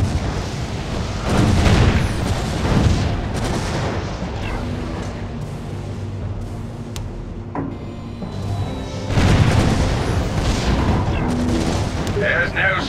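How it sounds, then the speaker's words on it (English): Cannon fire from towers in the tower defense video game Defense Grid, loud repeated booms and blasts layered over dense game sound effects and music, with a voice talking over the action. "There's no stun setting on cannon fire."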